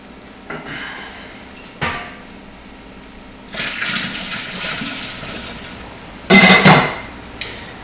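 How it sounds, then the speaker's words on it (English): Grain and strike water are stirred in a brewing pot for an all-grain Belgian ale, giving a few short sloshing swishes, then a longer churning stretch and a loud splashing burst near the end. "I'm going to start stirring my pot just to make sure I don't have any spots where the grain is dry."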